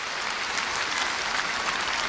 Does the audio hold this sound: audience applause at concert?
yes